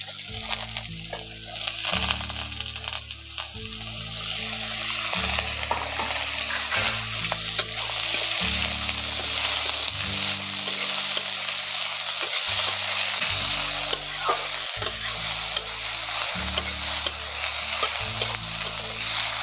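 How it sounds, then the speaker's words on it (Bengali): Chopped ridge gourd sizzles in hot oil with onions while a spatula scrapes and stirs the pan in regular strokes, a continuous close frying hiss with repeated clattering stirs and no talking. "এবার এর মধ্যে দিয়ে দিচ্ছি কেটে রাখা ঝিঙ্গা ঝিঙ্গাগুলো পেঁয়াজের সঙ্গে একটু ভেজে নেবো"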